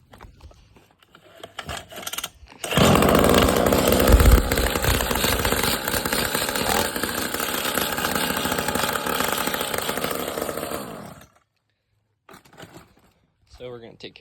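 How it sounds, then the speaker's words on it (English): An SSR SX50-A pit bike engine runs with a loose exhaust, a loud steady buzzing drone with metallic rattle that holds for about eight seconds, then cuts off abruptly, with quieter handling noises before and after. "the exhaust is loose, so I'm assuming that's what it is. I'll start it up"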